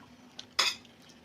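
A spoon clinks against a pot while mixing cooked ingredients for nucchinunde, a faint tap followed by one sharper metallic clink in an otherwise quiet kitchen.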